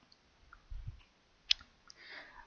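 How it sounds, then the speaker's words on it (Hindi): A single crisp computer mouse click stands out in a quiet room, preceded by a few soft low thumps and followed by faint rustling. "यहाँ पे मैं क्लिक कर रहा हूँ।"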